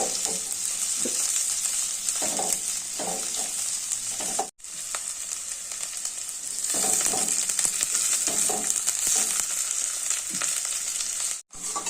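Cauliflower frying in hot oil in place of onion, a loud, steady close-up sizzle with stirring scrapes, cut by two brief dropouts.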